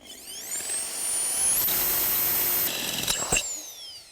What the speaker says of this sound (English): We're going to drill a hole just on the lip.